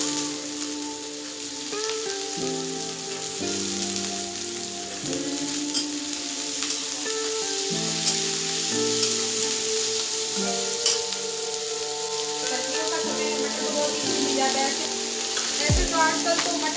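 Green peas frying in a pan for Mumbai-style pav bhaji, a steady loud sizzle with light stirring, while music plays in the background throughout.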